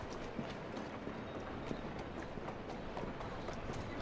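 Horse hooves clip-clop steadily through a Victorian London street in Assassin's Creed Syndicate, the rapid hoofbeats running the whole stretch over a dense bed of city and carriage noise.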